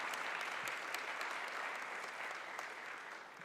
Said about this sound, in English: I'd really like you all to just give a round of applause for all of the 36 startups that pitched across Africa